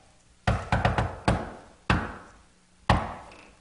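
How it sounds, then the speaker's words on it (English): Several sharp knocks rap on a door in a rhythmic secret-knock pattern: a quick cluster of four, then single knocks spaced apart, close and distinct. "I'll do the secret knock."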